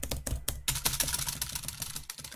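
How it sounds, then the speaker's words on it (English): Rapid tapping on computer keyboard keys while a karaoke song is timed. The clicks come fast and uneven in quick flurries, close but fairly quiet, with no voices. "Great thing about having two keyboards, you can tap twice as fast."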